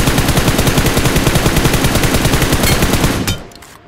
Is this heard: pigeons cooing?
no